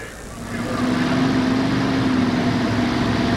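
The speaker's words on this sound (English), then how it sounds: "Well, Wayne fires the motors, and we're just about ready to go with the River Rat." Pulling tractor powered by two V12 Allison aircraft engines, running at an indoor truck and tractor pull in Kansas City, a loud steady roar that swells in the first second, then holds a constant droning pitch throughout.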